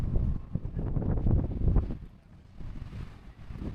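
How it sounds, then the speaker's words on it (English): Strong wind of about 55 mph at Meteor Crater buffets the microphone with loud, continuous low rumbling gusts that ease somewhat in the second half, with no voices. "So they say the winds are at 55 miles an hour right now."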